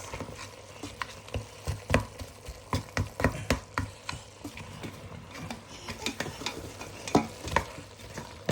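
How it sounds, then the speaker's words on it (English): Wilted spinach and fenugreek in a lamb curry are stirred in a pan, with a spoon scraping and knocking in a steady, uneven rhythm over a soft background sizzle. "we're just going to mix it up a little bit now. We're going to break the fenugreek up."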